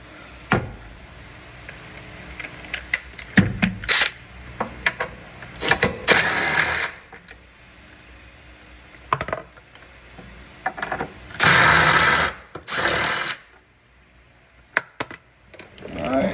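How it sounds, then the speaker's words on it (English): A power tool removes bolts from a 2024 Toyota Tacoma in short, loud whirring bursts, the longest near the end. Scattered metallic clanks and rattles of tools and parts fill the gaps between bursts. "then we'll use the machine to get the rest off."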